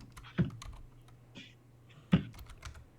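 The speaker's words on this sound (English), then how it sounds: "I'm typing it wrong." Someone types on a computer keyboard at a Linux command line, giving a steady run of fairly quiet key clicks with two sharper, louder keystrokes standing out.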